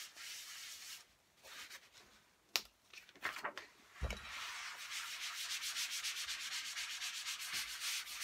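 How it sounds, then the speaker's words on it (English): A kitchen towel rubs and wipes excess paint from a craft surface, giving dry scuffing strokes, a few sharp taps, then a steady rapid rubbing in the second half, close and fairly quiet. "just get rid of the excess with a bit of kitchen towel. Wipe that off."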